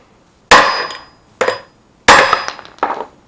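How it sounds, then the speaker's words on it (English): Hammer striking a small socket set on the top cap of a universal joint on a 1966 Mustang driveshaft: four sharp metallic whacks in uneven rhythm, close and loud, each ringing briefly before the next. "My small socket on the top cap of the universal joint. And give it a few good whacks."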